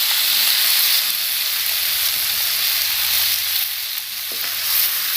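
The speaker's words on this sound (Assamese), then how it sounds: "একেলগে ভাজি থাকিম" Mutton frying in a pan with raw papaya and potato, a steady, close hiss of sizzling under scraping stir strokes, continuous with no talking.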